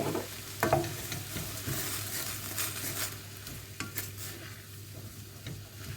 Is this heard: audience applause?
no